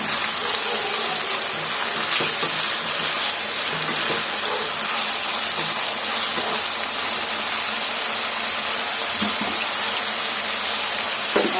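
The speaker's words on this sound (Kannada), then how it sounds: "ನೋಡಿ ಎರಡು ಮೀಡಿಯಮ್ ಸೈಜ್ ಟೊಮೆಟೊನ ಸೇರಿಸ್ಕೊತಾ ಇದ್ದೀನಿ ಚೆನ್ನಾಗಿ ಫ್ರೈ ಮಾಡ್ಕೊಳ್ಳೋಣ ಈ ಥರ" Two medium tomatoes fry in a pan for Karnataka-style bisi bele bath, giving a dense, continuous hissing sizzle that stays loud and even from start to finish, with no speech.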